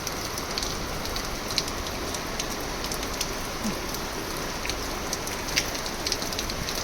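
Steady rain falls on a farm village in Khajuri Gundala, Jetpur taluka, Rajkot district, Gujarat, during the groundnut harvest season, a continuous even hiss with scattered louder drop patters throughout.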